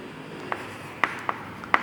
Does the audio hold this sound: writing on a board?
yes